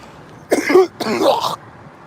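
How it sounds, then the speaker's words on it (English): Two harsh, rasping coughs in quick succession, close and fairly loud, each a broad noisy burst about half a second long, then quiet. "excuse my my whooping cough."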